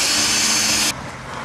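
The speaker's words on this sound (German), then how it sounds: "wenn man so eine Bohrmaschine in der Hand hält" A handheld electric drill runs steadily at close range, loud and continuous, then cuts off abruptly about two-thirds of the way through, leaving a quieter room tone.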